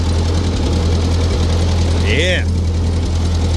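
A Ford 8N tractor engine idles steadily up close in a yard, a constant low throb throughout, with a brief voice speaking over it.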